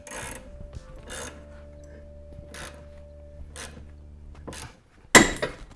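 A ball joint on a Lexus IS300 breaks loose from its separator tool with one sharp, loud metallic crack near the end, after a stretch of low steady hum and faint scraping and clinking.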